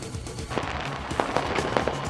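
Fireworks at a New Year celebration in New Zealand and Australia burst in a loose, irregular string of sharp bangs and crackles, several pops landing close together over a steady crowd-like background.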